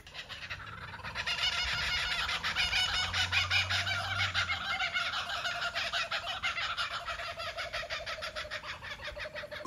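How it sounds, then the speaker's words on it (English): Several kookaburras cackle and laugh together in a loud, rhythmic chorus that builds and continues for many seconds, with no talking. "Could you hear those three kookaburras doing their call?"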